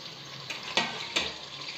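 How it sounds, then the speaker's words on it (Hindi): Onion tempering sizzles steadily in hot oil alongside dried red chilli for a liver (kaleji) curry, a continuous close frying hiss with a couple of brief stirring scrapes. "इसके प्याज को हम तड़का लगा देंगे पहले।"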